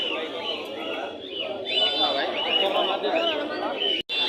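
Pigeons coo and call at a busy pigeon market in Bangladesh, soft repeated bird calls layered over continuous nearby talking.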